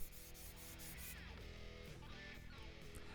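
A guitar fretboard is sanded with coarse 80-grit sandpaper, making faint, close, scratchy back-and-forth rubbing strokes that repeat evenly with no voices.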